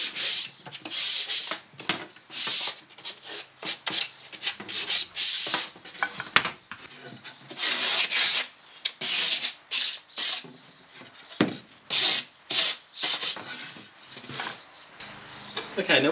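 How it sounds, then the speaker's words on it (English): MDF parts hand sanded along the edges for a small spray booth fan box, brisk close scratchy sanding strokes in irregular bursts with short pauses between passes, without talk. "give them a quick sand along the edges just to make them look purdy"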